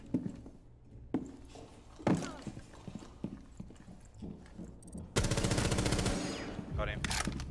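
Gunfire in a competitive shooter video game, sharp sporadic shots and clacks, then a loud sustained burst of rapid automatic fire near the end, with faint game sounds between.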